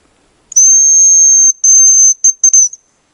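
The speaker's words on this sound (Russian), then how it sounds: "Вот так потихоньку иду и свищу." A loud, piercing high whistle from a hunting decoy call, blown while walking, sounds close up, first as two long sustained tones, then as a few short quick bursts, with silence before and after.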